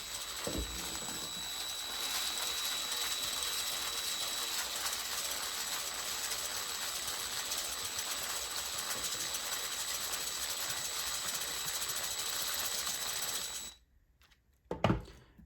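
A motorized typewriter ribbon winding tool running, with a steady close mechanical whir and faint whine for most of the time, then stopping abruptly, leaving a couple of small clicks.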